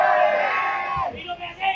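A crowd of political supporters at a rally in Indonesia shouts loudly in unison, a sustained roaring yell that breaks off and is followed by scattered voices.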